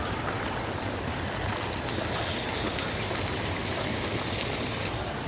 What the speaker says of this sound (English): there are multiple waterfalls inside the shopping complex that gives you the cooling effect during the hot summer